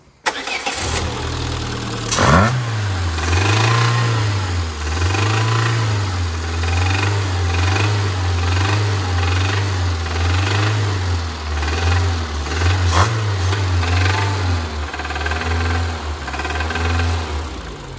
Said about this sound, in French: Comme vous avez pu l'entendre, le moteur claque, donc il est mort.